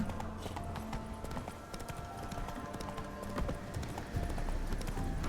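A horse gallops in The Witcher 3, rapid hoofbeats pounding steadily and fairly quietly under ambient game sound, without pause.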